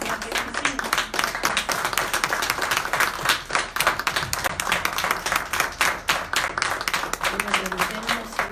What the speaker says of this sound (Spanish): nos damos mutuamente un aplauso todos por esta charla tan cordial